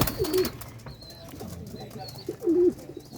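Pigeons kept in a loft, including young squabs, cooing at feeding time: two nearby low throaty coos, with faint chirps and light rustling between them.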